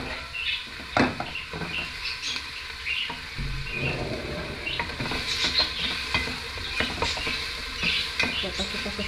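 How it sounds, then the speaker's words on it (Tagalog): Onion and garlic sautéing in a pan, a steady sizzle broken by scraping, stirring strokes from a utensil, fairly close and continuous with no talking. "Lagyan na po natin ang ating onion. Muna natin igisa before ang ating"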